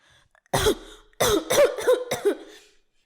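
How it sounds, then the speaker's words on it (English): A man coughs in a harsh, wet fit of about four or five bursts in a quiet room, close and fairly loud. "How long have you had that cough?"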